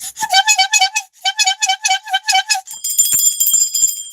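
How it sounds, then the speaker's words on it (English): A broken-down hand horn bell is struck repeatedly in a quick, rattling series of harsh metallic rings, close and loud. A brief pause follows, then a sustained high shrill ring closes it out. "let's try my broken down horn."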